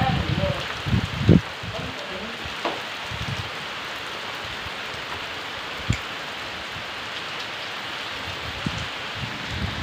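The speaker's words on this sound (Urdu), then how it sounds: "بڑے زوراں شوراں بارش ہو رہی ہے بڑی تیزی چ." Heavy rain pours steadily over a Punjabi village, a dense even hiss with a few louder nearby splashes and thuds, and someone talks briefly over it near the start.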